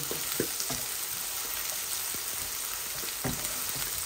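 Onions and rui fish fry in a pan with a constant close-up sizzle and crackle, broken by occasional soft stirring knocks.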